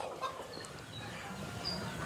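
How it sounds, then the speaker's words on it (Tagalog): A young native hen, a pullet in a backyard flock, clucks faintly amid steady outdoor background noise, with a few short calls scattered through the moment. "isa nating dumalaga na manok"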